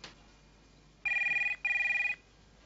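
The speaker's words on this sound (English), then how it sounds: "Phone." A telephone bell rings in two long electronic bursts with a short gap between them, loud and clear against a quiet room.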